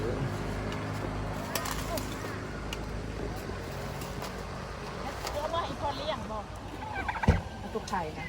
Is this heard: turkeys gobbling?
yes